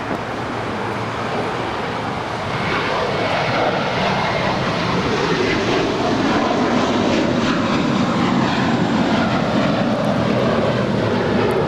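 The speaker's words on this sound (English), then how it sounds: "That is American Airlines Flight 481 departing to Philly. It's a 5-year-old Airbus A321." A five-year-old American Airlines Airbus A321 takes off from LAX, its jet engines a loud, steady broadband roar that builds slightly and holds throughout, with no voices over it.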